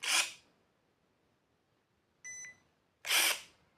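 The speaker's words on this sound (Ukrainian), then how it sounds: "знову натиснути курок, прозвучить зумер, відпускаємо курок" A cordless pruner gives a short electronic buzzer beep between two bursts of sharp noise, all close and clear against near silence.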